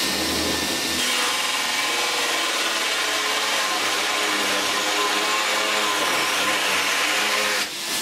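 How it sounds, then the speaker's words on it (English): Cordless DeWalt drill running on a NiCad battery bores into a sheet of flooring grade chipboard with a continuous loud grinding whir that holds nearly steady and cuts off near the end. "we're just going to see now how many holes we can put in the sheet of flooring grade chipboard"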